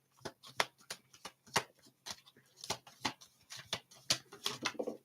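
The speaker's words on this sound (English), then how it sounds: "One more shuffle this way." Tarot cards being shuffled by hand, a rapid run of crisp riffling bursts and soft flaps in an irregular rhythm, close and fairly quiet, with no talking.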